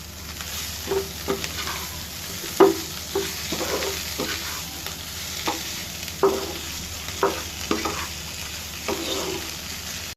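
Small fish chochchori with chopped onions frying gently in a pan, a soft continuous sizzle broken by repeated spatula scrapes and taps against the pan, no talking.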